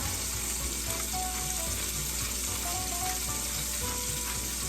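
Seasoned chicken pieces frying in a pan for a Tuscan chicken dish give a steady, dense sizzle that stays loud and close throughout, with no talk over it.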